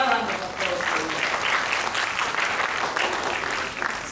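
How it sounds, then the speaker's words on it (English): An audience at a sickle cell foundation event breaks into steady, sustained applause, loud and dense clapping filling the whole stretch. "And another round of applause for you."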